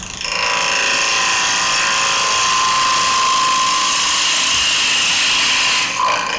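A woodturning gouge cuts continuously into a square-edged bowl spinning on a lathe, a loud, sustained scraping hiss with a steady tone that eases off at the end.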